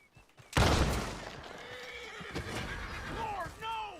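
A horse whinnies loudly in a Red Dead Redemption 2 scene amid a burst of noise, followed by a second, higher whinny near the end.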